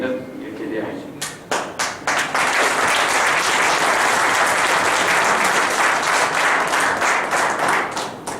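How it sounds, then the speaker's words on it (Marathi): An audience applauds at a district team learning seminar. A few scattered claps quickly swell into loud, sustained applause that holds steady before easing slightly at the end. "बोलायच्या आधी टाळ्या होऊ लागले तुम्ही."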